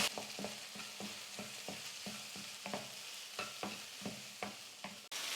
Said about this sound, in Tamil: இப்போ எல்லாத்தையும் சேர்த்து 1 நிமிஷத்துக்கு நல்லா வதக்கிக்கலாம்.